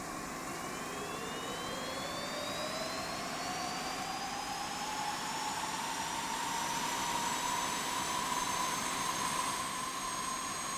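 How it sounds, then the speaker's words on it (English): A Harrier jump jet engine spooling up during startup in DCS World, a steady loud turbine roar with whines rising in pitch throughout, no voices. "You'll hear that kick in when the engine starts."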